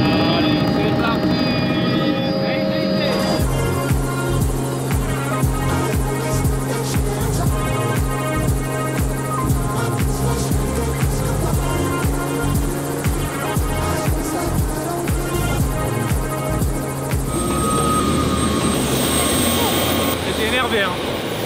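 A helicopter flies over South Africa, its loud rotor and engine roar continuous and close, with rhythmic blade thumping and a mechanical whine throughout, and louder bursts of noise mixed in.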